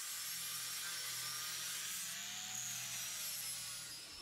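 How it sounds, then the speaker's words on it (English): A steady, high-pitched abrasive whir of an angle grinder's spinning sanding disc grinding against reclaimed walnut, continuous and close, with no talking. "So I like this sanding disc. It does work really well."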